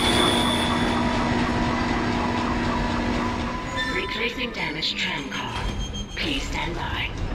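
A tram in the video game Dead Space rumbles and rattles along with a steady mechanical drone, its wheels grinding and squealing, while a voice talks over it partway through.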